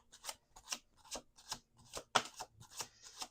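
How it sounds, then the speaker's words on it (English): Quick, crisp riffles of tarot cards being shuffled, about eight short bursts in a steady rhythm, close and quiet with no talking. "Last shuffle."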